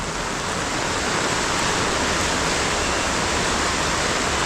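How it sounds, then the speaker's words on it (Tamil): Heavy rain falls during a storm in Jaffna, a loud, dense, unbroken roar of downpour close by with no gaps or voices. "இன்னுமே மழை பெய்து கொண்டே இருக்குது பெய்து கொண்டே இருக்குது"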